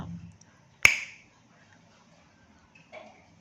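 A single sharp hand clap sounds close and loud to trigger a battery-powered clap switch that lights an LED, followed by a faint click in an otherwise quiet room.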